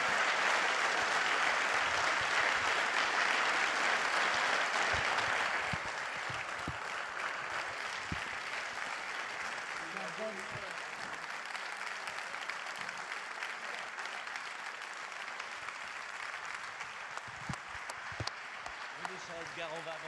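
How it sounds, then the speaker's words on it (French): Conference audience at a talk on rethinking Europe gives sustained applause for Edgar Morin and Jean-Pierre Raffarin, a steady wash of many hands clapping from a distance, heaviest at the start, with occasional voices underneath. "Un tonnerre d'applaudissements."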